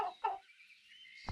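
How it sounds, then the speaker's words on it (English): Poultry sounds from a video game: two short clucking calls in quick succession, a pause of near silence, then a brief low thump, all fairly quiet. "Oh, looks like we got chickens."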